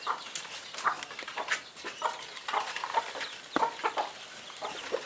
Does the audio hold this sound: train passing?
no